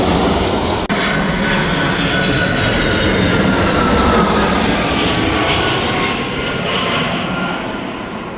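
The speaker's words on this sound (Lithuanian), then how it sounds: "Kaip lėktuviukai leidžiasi," Airliners landing at a Los Angeles airport give a loud, continuous jet roar with a slowly shifting whine, heard close and steady, fading slightly toward the end with no talk.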